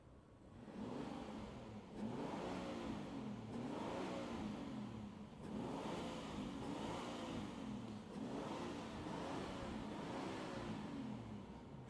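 A Rolls-Royce Cullinan's 6.7-liter V12 with upgraded BRABUS exhaust revs in repeated rising and falling surges, a deep, steady roar with throaty exhaust pulses close by.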